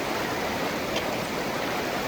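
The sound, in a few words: fast river water flowing during river crossing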